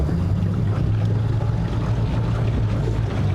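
A Mercury Racing boat engine idling on the water during a first on-water test, a steady low rumbling drone with wind and water wash, constant and close, with no talking.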